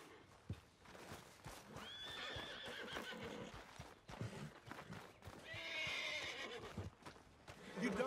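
A horse in the Red Dead Redemption 2 video game whinnies twice, the neighs rising loud over clip-clopping hooves and muffled movement.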